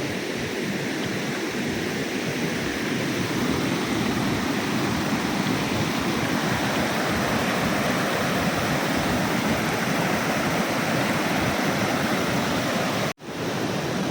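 A mountain stream pours below an upper waterfall, a constant, loud, close rushing of water that barely changes, with one brief dropout near the end.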